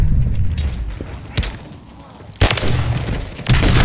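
Gunfire in Modern Warfare 3 cracks out as loud bursts and sharp single shots, with heavy impacts around the middle and near the end over a rumbling game background.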